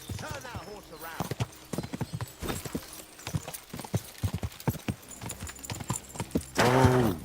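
Horse hooves clip-clop in the medieval game Kingdom Come, with loud neighs and whinnies near the start and end, while someone talks and shouts throughout.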